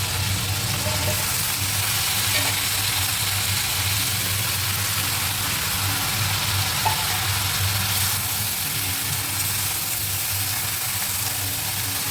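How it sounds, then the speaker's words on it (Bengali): Dal dries out in a wok over a low gas flame, giving a steady, soft sizzle and hiss that holds evenly throughout with faint stirring scrapes and no talking. "কড়াইতে গ্যাসটা কমিয়ে রেখে এরকম বসিয়ে রেখেছি মাঝে মাঝে নাড়াচাড়া করব"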